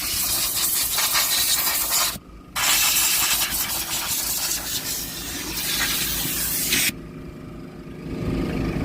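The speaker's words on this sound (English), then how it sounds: "So once you kind of spray that" Cleaner sprays inside a truck cab during interior detailing in loud, hissing bursts with brief gaps. The longest pause comes about two seconds in, and a quieter background hum follows near the end.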